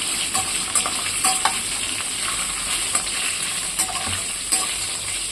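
Slit green chillies fry in hot oil for a ridge gourd and tomato chutney, giving a loud, steady hissing sizzle with scattered pops and spatula taps, close up, no speech.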